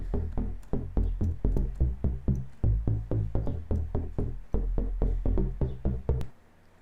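Square-wave synth bass run through a low 12 filter whose cutoff is swept by an LFO, with unison set to 11 and slightly detuned, plays a steady, rhythmic run of punchy low notes alone and then stops abruptly.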